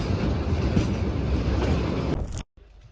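Steady rumble of a passenger train travelling from Almaty to Astana, heard from inside the carriage: broadband noise with rhythmic rattling, then a brief cut near the end before the rumble returns more faintly.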